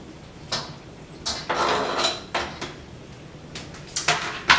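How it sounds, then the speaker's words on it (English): Sharp clanks and scrapes as ingredients are tipped into a wok for a shrimp stir fry, several uneven metallic knocks and rattles close by in a home kitchen. "So I'm going to put this in my wok."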